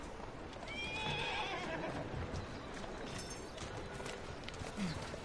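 A carriage horse in Assassin's Creed Syndicate gives a clear whinny over steady clip-clopping hooves and street bustle, fairly faint and distant in the mix.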